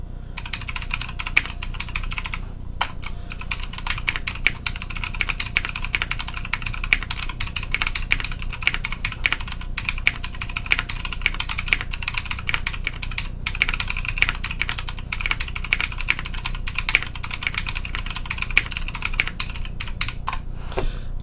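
Rapid, steady typing on a Noxary T60 keyboard with Arctos switches, GMK Sky Dolch keycaps and a 1.5 mm aluminium plate, producing close, crisp clacks in a continuous flurry with a few brief pauses.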